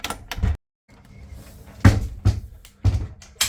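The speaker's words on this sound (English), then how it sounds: "And that is a solid door." A solid bathroom door in a 2003 Magna motorhome swings and shuts, giving several firm, close thuds and knocks with brief rattles between them, heard alone without talk.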